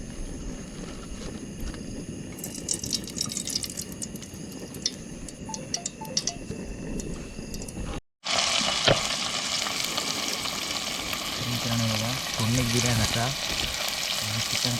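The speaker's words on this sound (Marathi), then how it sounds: "आपण हे कांदो आणि टोमॅटो कापून घेतलं आणि इकडे टोप ठेवलं आता लगेच फोडणीत टाकून घेऊया" Onion and tomato fry in tempering oil in a pot at a forest night campsite, a dense close sizzle with scraping stir strokes, briefly cut off midway before resuming louder.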